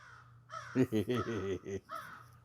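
Crow cawing sound effect: a run of five or six quick, harsh caws in a row, followed by a softer call, fairly close and alone.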